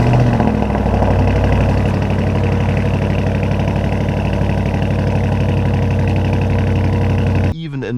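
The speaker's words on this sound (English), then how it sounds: "You already heard it in the beginning, the V8 just sounds marvelous." The V8 TFSI engine of a 2026 Audi SQ7 runs with a steady, deep, even rumble throughout, loud and close, and cuts off abruptly near the end.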